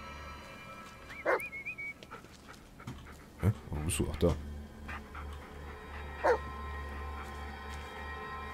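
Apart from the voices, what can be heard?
dog in Blair Witch video game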